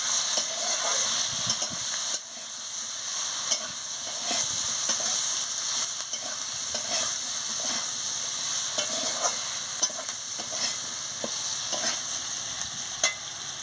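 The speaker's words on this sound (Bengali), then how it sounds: "পরিমাণ মতন হলুদের গুঁড়ো দিয়ে দিচ্ছি, দিয়ে ভালো করে ভেজে নিচ্ছি" Potatoes frying with spices, salt and turmeric: a continuous close sizzle and steamy hiss, broken by frequent light clicks and scrapes of a stirring spoon against the pan.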